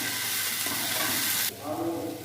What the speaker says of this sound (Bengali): ভালো করে নেড়ে নিই,